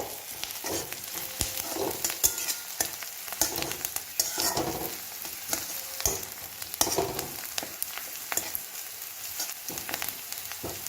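Green chillies and onion frying in a pan, a steady close crackling sizzle with irregular popping spatters and occasional stirring scrapes throughout, no voices.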